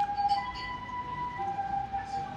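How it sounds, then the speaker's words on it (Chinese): An ambulance siren wails at a moderate distance in the street, a steady tonal whine that holds throughout over a low hum of traffic. "他说这个救护车是来接你的吗？"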